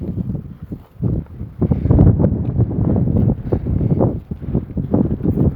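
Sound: wind blowing

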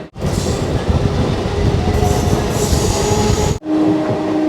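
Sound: train passing on the Mayapur route

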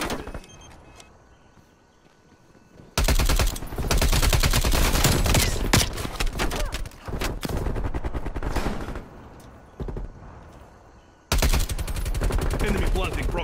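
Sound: AUG rifle gunfire in Call of Duty Cold War video game

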